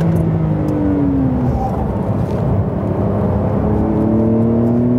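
Porsche 911 Carrera (992 generation) accelerating hard on a track, a loud continuous engine note with pitch rising and shifting through gears, heard from inside without talk.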